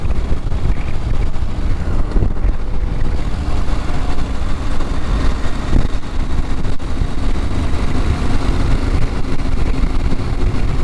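A KTM 790/890 Adventure motorcycle rides along near Otley Chevin, its engine a steady low rumble heavily buffeted by wind noise across the whole stretch, constant and close with no speech.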